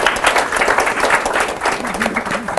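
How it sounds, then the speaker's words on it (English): A lecture-hall audience gives a rousing round of applause at a university psychology lecture, dense steady clapping from many hands filling the room for a few seconds, with a voice faintly underneath. "Rousing round of applause"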